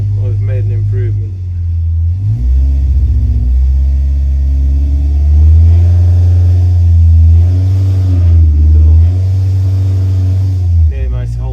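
A V8 engine held at wide open throttle on a dyno, a loud continuous low roar that rises and falls in pitch as the revs shift, close and filling the whole stretch.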